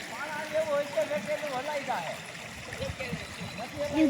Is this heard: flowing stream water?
yes